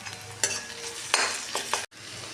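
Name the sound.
ginger garlic paste sizzling with onions in pan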